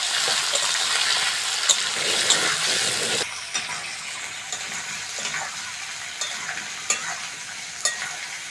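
Potatoes fry in a pan with a steady, close hiss that drops after a few seconds, and light scrapes of stirring cut through at intervals.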